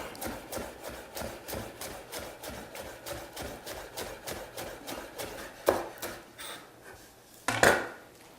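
Knife cutting an onion diagonally on a board in a steady rhythm of soft regular chops, with a couple of louder knocks near the end.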